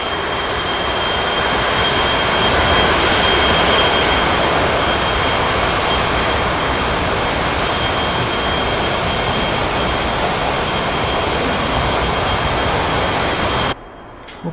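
F-15EX jet engines idle at about 68% RPM in the DCS flight simulator, a loud, steady, unbroken roar with a high whine that cuts off abruptly near the end.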